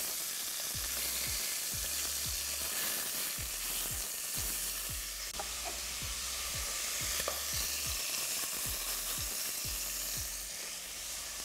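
Chicken pieces browning in a hot pan for a stew, a steady loud sizzle running throughout with repeated stirring and scraping clicks at a fairly regular pace.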